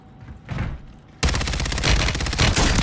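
Video game gunfire in Warzone: after a quieter opening with a muffled thump, a loud, sustained volley of rapid automatic shots begins abruptly and keeps going close and dense to the end.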